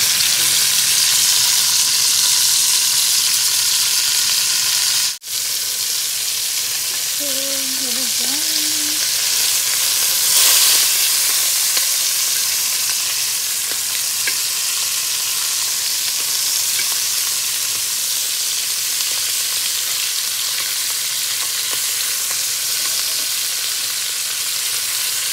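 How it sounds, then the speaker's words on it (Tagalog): Rouladen beef rolls frying in a pan as a German home dish, a steady broadband sizzle holding evenly throughout with a brief clunk near the middle and no talking. "Ipapry lang namin siya na mag-golden brown."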